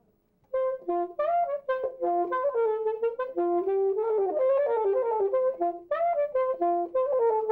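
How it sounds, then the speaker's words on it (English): A solo alto saxophone plays a quick, lively melody of short detached notes and runs, bright and close, with no voices. "this is the alto saxophone."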